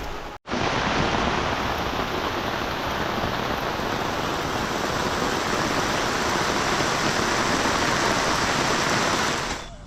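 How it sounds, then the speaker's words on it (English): Heavy rain pouring down steadily at an Earthship build site, a dense continuous hiss that stays loud and unbroken after a brief cut at the start. "The rain came again."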